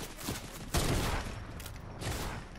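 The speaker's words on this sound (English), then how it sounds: "who else is shooting at me?" Rapid gunfire in a video game rattles in a continuous volley with one sharper blast near the start, sounding somewhat distant and fairly quiet.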